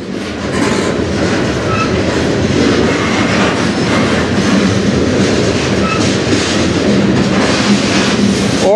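A short CN freight train rolls past on the Strathroy Sub, a loud continuous rumble with clattering wheels and rail noise, close and steady throughout without any voices.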